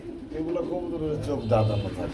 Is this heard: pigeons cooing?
yes